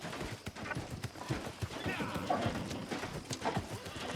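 Horse hooves clip-clop in a quick, uneven rhythm over a busy game soundscape in New World: Aeternum, with a faint whinny partway through.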